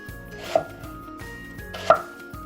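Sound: thinly slicing onions with a knife

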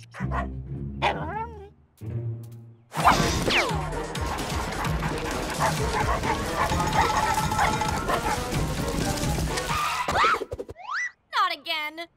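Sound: dogs barking

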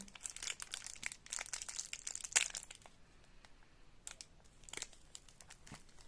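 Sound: carefully unwrapping a bar of olive Marseille soap

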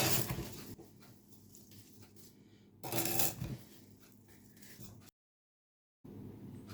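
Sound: mixing chopped peppers and fruit with sugar

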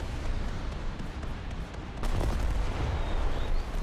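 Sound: tank firing at warship in a video game

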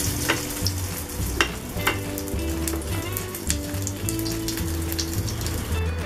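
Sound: shallow frying breaded veg burger tikki in oil in a pan

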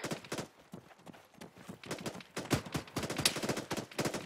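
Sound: gunfire in a video game

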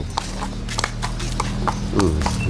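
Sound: horse walking, hoofbeats after farrier work

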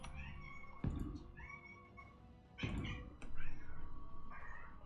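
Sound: pet cat meowing

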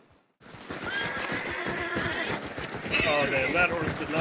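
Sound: horse neighing in a video game

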